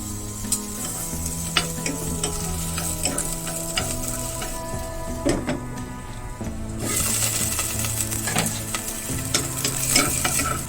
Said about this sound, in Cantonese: 我哋落油，中火將啲油加熱，爆香啲料頭